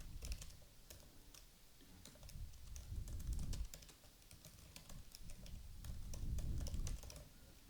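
Rapid typing on a computer keyboard while a new note is entered in a notes app, steady clicking keystrokes with brief pauses, close and moderately quiet, no speech.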